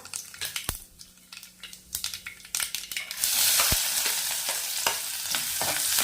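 Mustard seeds and cumin hit hot oil for a millet kurdya chutney. Some clattering in the pan suddenly gives way to a loud, steady, crackling sizzle that fills the rest of the moment at close range.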